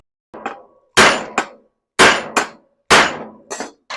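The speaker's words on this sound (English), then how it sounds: "I grinded down the rivet and now I'm hammering it out." Hammer strikes driving out a ground-down rivet on a 1976 Toyota Celica RA24 window regulator, sharp metallic clangs in uneven pairs with short ringing tails and silence between, close and loud.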